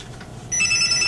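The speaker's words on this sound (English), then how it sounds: "an actual phone call" A telephone rings once, a brief electronic trill that starts abruptly against a background hiss. It is clear and fairly loud, with no voices over it.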